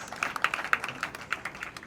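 A round of applause from a film screening audience: brisk, fairly close clapping from a small crowd, with individual sharp hand claps standing out for a couple of seconds.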